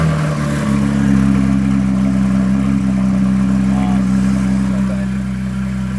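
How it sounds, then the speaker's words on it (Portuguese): A Porsche with its original exhaust idles steadily after starting, a low continuous engine hum throughout with no voices. "Eu vou ligar a Porsche aqui. Lembrando que ela ainda tá, rapaziada, com o escape original."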